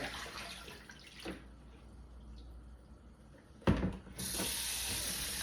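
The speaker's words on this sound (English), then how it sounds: "Going to give it one more rinse." Running water splashes steadily from a tap as potatoes are rinsed in a strainer, with a brief clatter partway through before the flow resumes, louder and brighter.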